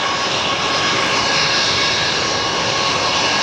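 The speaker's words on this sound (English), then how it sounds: "Spirit 324 to Pensacola is now finally taking position onto the runway." A Spirit Airlines jet airliner moves into position on the runway at Fort Lauderdale airport, and its engines make a loud, steady, broadband roar that holds even and unbroken throughout.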